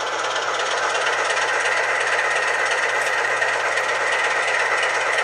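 A model DC locomotive's engine sound plays through onboard speakers as a steady, dense mechanical drone with a low constant hum beneath it, close and uninterrupted, no talk.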